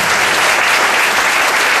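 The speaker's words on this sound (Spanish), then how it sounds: "Aplauda al Señor en esta mañana" A church congregation applauds together during a morning service, a dense, loud, continuous wash of clapping from many hands with no individual claps standing out.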